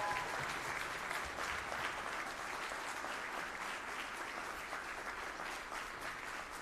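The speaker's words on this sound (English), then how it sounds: "So how about a round of applause for the Roussel event staff?" Sustained applause from an audience at a Loyola University New Orleans School of Music event, honoring the event staff; a dense, steady wash of clapping runs evenly throughout without any speech.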